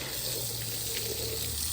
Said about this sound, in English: just get your hose out, pre-soak the whole engine, kind of fill up all the coolant holes with the water